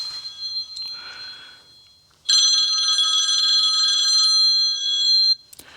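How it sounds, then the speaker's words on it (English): A telephone bell ringing loudly and continuously for about three seconds in a quiet garage during a 1978 Corvette restoration, preceded by faint rustling and cut off abruptly. "answer the phone"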